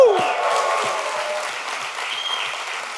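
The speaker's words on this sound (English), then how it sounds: "give them a round of applause for me" A conference audience claps together in a burst of applause at a sales presentation, dense at first and then thinning slightly over a few seconds, with a brief cheer at the start.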